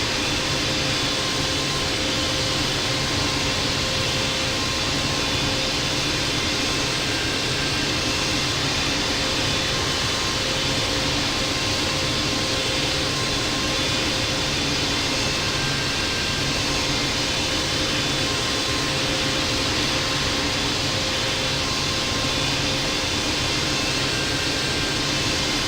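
Jet engines of a simulated Boeing 777-200 in the Infinite Flight game hum and whine steadily while taxiing at Los Angeles, a continuous even drone with faint tonal lines and no talk.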